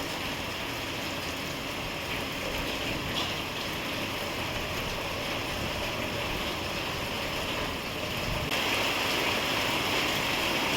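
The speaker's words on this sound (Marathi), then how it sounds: "पाऊस बघा किती पडतो" Heavy monsoon rain in a Konkan village pours down in a dense, steady roar that holds constant throughout and grows slightly louder near the end. No voices are heard.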